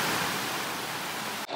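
A small woodland creek near Lake Placid, New York rushes steadily with a loud, close, even wash of flowing water, broken by a short drop just before the end.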